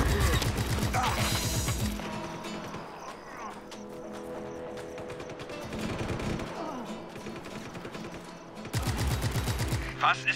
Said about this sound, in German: Auf was schießen die Idioten?